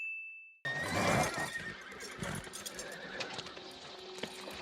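Horses neigh loudly after a short electronic tone, then hooves clop irregularly along with rustling and movement, fairly close and busy for several seconds.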